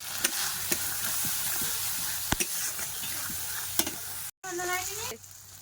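Ground onion and spice paste with salt, turmeric and chilli powder sizzles steadily in oil in a pan, with occasional scraping knocks of stirring over a constant loud hiss, outdoors by a Sundarban pond.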